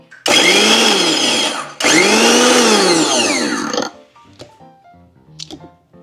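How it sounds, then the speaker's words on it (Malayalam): A kitchen mixer grinder crushing chopped spices for a beef curry runs loud and close in two bursts of about 1.5 and 2 seconds, with a brief stop between, then cuts off leaving quiet clinks and handling noise. "നമ്മൾ മിക്സിയിലിട്ട് കിടുകിടാ കിടുകിടാന്ന് അടിക്കണം"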